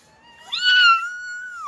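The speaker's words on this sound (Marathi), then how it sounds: "क्यूटस मांजर एकदम मस्त असं नन्नूच." A cat gives a single close, clear meow that rises and then holds a long drawn-out tone before cutting off, in an otherwise quiet room.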